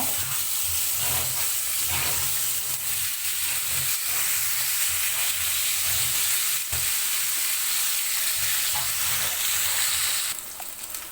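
Kaika fish, salted and coated with turmeric, frying in hot oil in a wok, giving a loud, close, continuous sizzle with steady crackling that holds throughout and eases off only at the very end.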